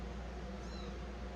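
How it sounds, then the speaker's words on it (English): A shop kitten in a woodworking shop gives a single short, soft meow over a steady low background hum. "There's our little shop kitty."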